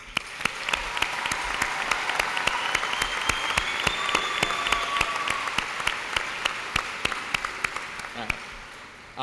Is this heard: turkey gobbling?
no